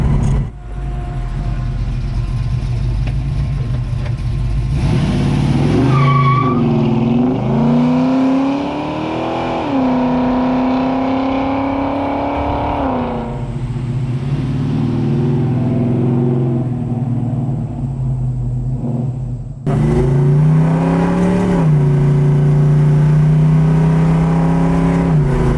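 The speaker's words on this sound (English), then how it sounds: "There's nothing like a carbureted V8 big cam with headers going down the road." A loud carbureted V8 with a big cam and headers in a 1972 Dodge Dart Swinger rumbles steadily while driving, revving up and easing off through gear changes, with a brief drop before it roars again.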